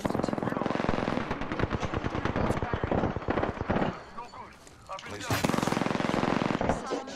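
Loud automatic gunfire in a squad-based video game rattles in rapid bursts. It breaks off briefly midway, then resumes heavily, with voices faintly mixed in.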